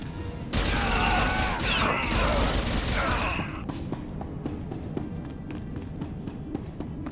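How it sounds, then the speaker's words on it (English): Gunfire fight in the video game Star Wars: The Old Republic: a loud burst of rapid blaster fire for a few seconds, then scattered sharp single shots and thuds that are fainter. "it's a couple gunfire fights"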